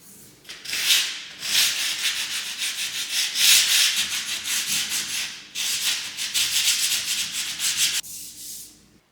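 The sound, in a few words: power sander sanding wooden stair with shop vac attached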